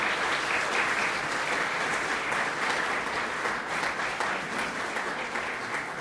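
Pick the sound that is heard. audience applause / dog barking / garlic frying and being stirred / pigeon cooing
audience applause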